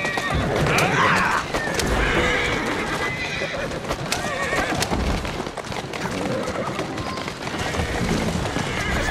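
In the video game Assassin's Creed Syndicate, a horse whinnies loudly near the start while hooves clip-clop steadily throughout, with a voice speaking faintly in the mix.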